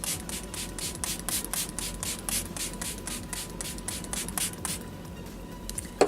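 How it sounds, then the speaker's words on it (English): Setting spray is misted repeatedly over a face after foundation, giving a run of soft, close hissing bursts in a steady rhythm, followed by a brief quieter stretch near the end. "what I like to do with this is just spray it all over my face"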